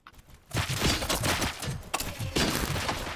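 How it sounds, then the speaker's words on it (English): Dense bursts of gunfire in Robocop: Rogue City, a loud near fusillade of overlapping shots that starts after a brief quiet and keeps going with a few sharp impacts and thuds. "Gunshots? What's going on?"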